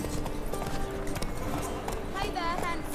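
Hoofbeats of Roach, Geralt's horse in The Witcher 3, trotting in a steady clip-clop under continuous game music and voices.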